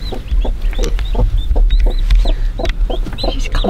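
A hen clucks close by in quick, repeated bursts, a busy run of short clucks calling to her newly hatched chicks over a low rumbling background.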